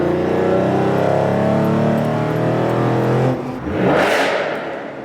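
Sports cars leave a car meet with Lamborghinis, Ferraris, Aston Martins and McLarens, a loud engine drone followed by one car revving hard and sweeping past close by.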